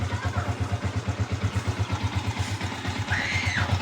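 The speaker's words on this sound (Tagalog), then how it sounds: "Ganyan yung tunog ng may depektong clutch damper." A Yamaha Sniper 150 motorcycle with a defective clutch damper idles close by with a rapid, rhythmic metallic rattle pulsing through the engine's low thrum.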